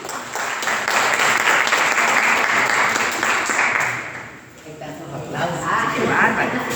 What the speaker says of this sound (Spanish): le damos un aplauso a Laura Bizantín